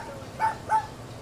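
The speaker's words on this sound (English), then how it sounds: "They're always howling and screaming over there, the dogs." Two short barks from dogs at a house, a little apart and at moderate distance, over a quiet background hum.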